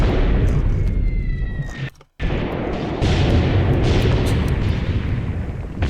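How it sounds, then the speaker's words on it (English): Grenade launcher fire in the WWII tactics game Graviteam Tactics Mius Front, heard as dense, rumbling battlefield booms and blasts that cut out briefly for a moment before the barrage resumes, loud and continuous. "That's a grenade launcher."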